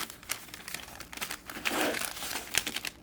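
The paper wrapper of a raw puerh tea cake crinkles while being folded, close and moderately loud, with a series of irregular crisp rustles and crackles and a denser crumple in the middle.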